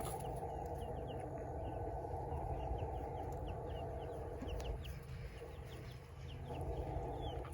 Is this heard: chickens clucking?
yes